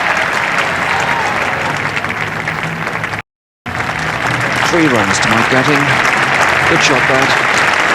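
Spectators at the 1981 Ashes Test in England, on the fifth day, applaud as the team's fifty comes up: sustained crowd clapping with a commentator's voice over it and a brief dropout midway.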